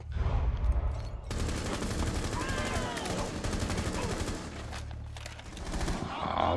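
Rapid gunfire rattles almost without a break in a Rainbow Six Siege terrorist hunt on the Consulate map, a dense, steady burst of shots that runs through the whole clip.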